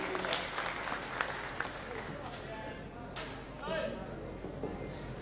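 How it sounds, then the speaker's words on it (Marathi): Crowd applause at a BJP party workers' rally, a spirited clatter of many hands with a few sharp claps standing out and shouted voices mixed in, rising briefly near the end. "जोरदार टाळी."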